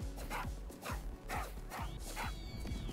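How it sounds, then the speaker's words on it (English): Dog barking in the Tokyo Jungle video game: a steady run of about six evenly spaced barks, roughly two per second, fairly faint over a low background hum, with no talking. "Bark, bark, bark, bark, bark."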